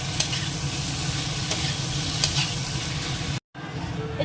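A spice paste is stir-fried with boiled ingredients in a pan, giving a continuous close sizzle with scraping stir strokes and a brief cut near the end.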